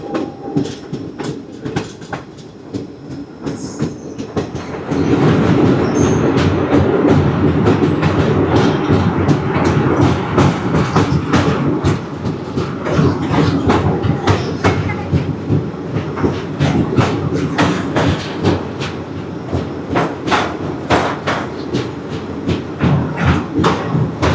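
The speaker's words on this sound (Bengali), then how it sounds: "আর এই হচ্ছে আমাদের train. One 3176 Silchar Sealdah Kanchenjunga express." The Silchar–Sealdah Kanchanjunga Express runs along the rails with a loud, steady rumble and rhythmic clickety-clack of wheels over joints, heard close from on or beside the train.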